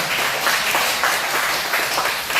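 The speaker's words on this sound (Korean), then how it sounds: "박수를 쳐요." A church congregation claps together in a steady, moderately loud round, with a dense patter of many hands that stays even throughout and no talking on top.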